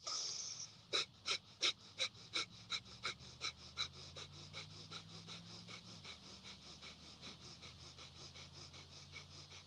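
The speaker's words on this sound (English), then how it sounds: "And this is in and out through our nose, and they're going to be forced out, more forceful out than in." Forceful rhythmic breathing in and out through the nose, each exhale pushed harder than the inhale, a steady series of about two dozen sharp close puffs that start loud and grow a little softer and quicker over a low hum.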